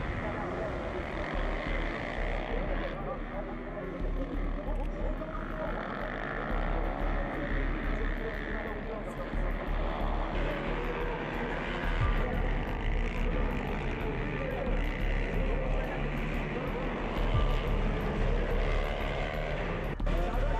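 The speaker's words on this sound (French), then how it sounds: "Les essais chrono des motos." Ice-racing motorcycles on studded tyres run timed trials at the Trophée Andros on the Isola 2000 ice circuit, a steady broadband engine roar heard at a distance, moderately faint and sustained.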